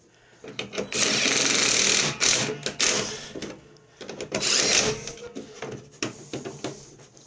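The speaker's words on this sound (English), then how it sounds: "I'm going to use my little driver. It's not high torque" Small low-torque electric driver running a bolt into a Toro 721 snow thrower chute assembly, two loud whirring bursts of about two seconds each with short clicks and pauses between, close by.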